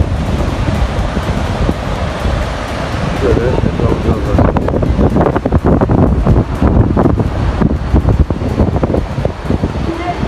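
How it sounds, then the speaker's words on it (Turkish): Toparlar waterfall near Köyçeğiz, Turkey, fed by cold snowmelt flowing down between mountains, gives a loud, constant roar of rushing water with some wind buffeting the microphone and a voice speaking briefly. "dağların aralarından akan su bu tertemiz buz gibi ve Topallar Şelalesi"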